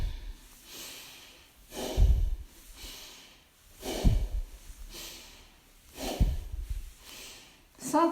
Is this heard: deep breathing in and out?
yes